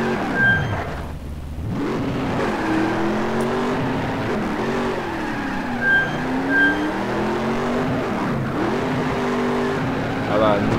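Muscle car spinning out mid-drift in NFS Shift, engine revving up and down in sweeping surges with tire noise, loud and close, while someone talks over it.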